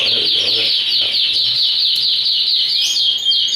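A male Satinet canary sings close by in a continuous, high, rapid trilling warble. Faint background chatter and clucks sit beneath the song.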